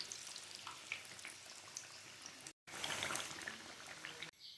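Pinwheel samosas and samosa roll-ups frying in hot oil give a steady, close crackling sizzle with fine bubbling pops that cut out briefly mid-clip and then resume just as loud.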